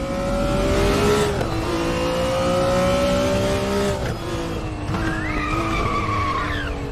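Race car in the RaceRoom racing game skidding with sustained tire squeal over a loud steady engine drone, revs shifting a few times, continuous and close throughout.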